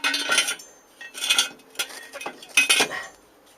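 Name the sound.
metal tools being handled for Mercedes axle repair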